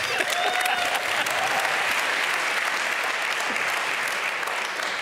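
A studio audience applauds steadily and warmly to welcome a guest onto a German television stage, a dense, even wash of clapping throughout.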